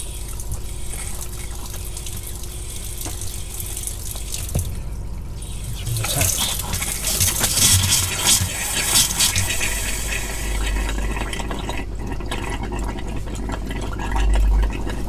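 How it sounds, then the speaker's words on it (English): Water runs from an outside tap on a motorhome as the boiler is drained during fresh water tank sanitising, a steady hiss and splash that grows louder midway. "let water out of the boiler and open the tap outside"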